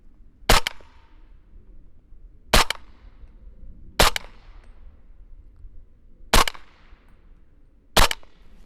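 Five sharp, loud rifle shots from a Q Honey Badger fired at a 30-yard target on an outdoor range, spaced unevenly one to two seconds apart, each with a brief ringing tail.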